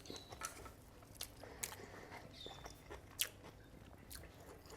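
Someone bites into and chews a stuffed tofu puff in scallop sauce, soft close crunches and squishy chewing with a few sharper bites, quiet and without talk.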